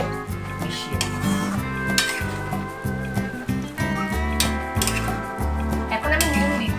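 Prawns and Malabar spinach being stirred in a frying pan for a traditional Bengali dish: repeated metallic clinks and scrapes of a utensil against the pan over a light sizzle, with steady background music.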